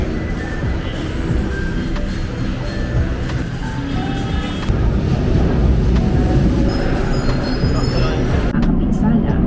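A steady roar of an LRT light rail train rolling through Fernando Po station fills the scene, a dense rumble with brief metallic squeaks and a voice speaking over it.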